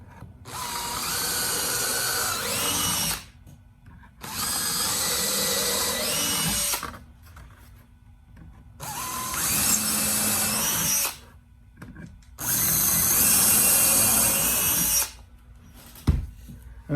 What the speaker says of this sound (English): I'll put a 1/8 inch bit in, and then I'm going to drill